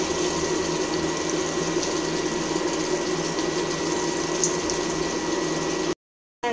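Tap water runs steadily into a sink while bowls are washed after cooking mutton kosha, a continuous close rushing flow with no talking, cut off briefly near the end.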